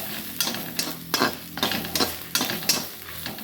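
Oil frying for a fish curry crackles in a pan as a spoon stirs in quick, regular strokes, about ten scraping pulses over a continuous sizzle, near and moderately loud, with no one talking.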